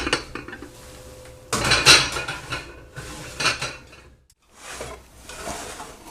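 A lidded pot of no-knead bread is set back into a home oven, giving a loud clank of heavy cookware and metal scraping, followed by quieter rattles and a softer final knock.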